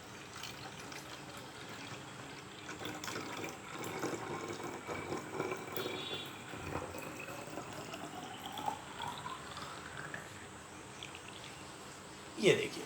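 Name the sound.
water being filled into a container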